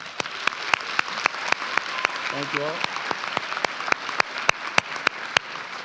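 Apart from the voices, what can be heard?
audience applause at a graduation ceremony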